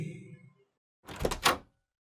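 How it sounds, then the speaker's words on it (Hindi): A door opens with two quick knocking thumps as a sound effect in a Hindi horror story, sharp and close after a faint tonal fade and near silence. "यह दरवाजे की आवाज थी।"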